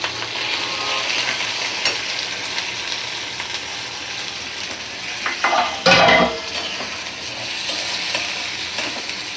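An egg frying with potato, onion and tomato hisses steadily in a pan, with a loud burst of scraping and stirring around the middle, close by and with no voices.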